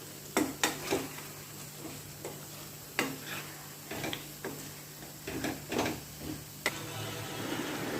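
Chicken curry with onions and curry leaves simmers in a pan as a spoon stirs it, giving scattered scraping clicks and knocks over a faint, constant sizzle.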